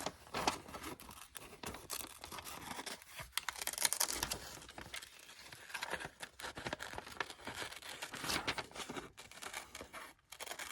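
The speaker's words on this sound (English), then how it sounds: "Let's see how I can cut this out." Scissors cut an image out of a glossy magazine page, faint close snips and papery rustles and crinkles coming in irregular bursts with short pauses between.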